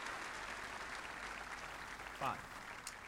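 Crowd applause in Snooker 19 after a fluked pot during a Masters semi-final frame, a steady broadband patter under a commentator's voice.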